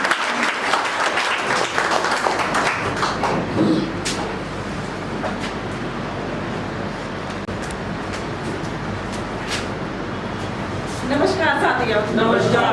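Audience applause at a business leaders' meeting welcoming a speaker to the stage: sustained, loud crowd clapping that fills the room, dipping slightly in the middle and swelling again toward the end, with voices mixed in.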